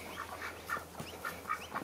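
Pet ducks quacking nearby in a yard, a run of short, repeated quacks close to the listener with no talk.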